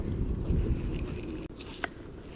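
Wind gusts across an open lake, buffeting the microphone with a low, rumbling roar, steady and fairly close, with a brief clatter near the end.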